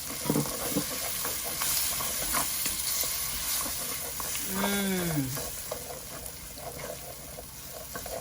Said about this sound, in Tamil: 4 தக்காளி பழம் குறுநெல்லாம் வெட்டி வச்சுருக்கேன், அதையும் போட்டு வதக்கிடலாம்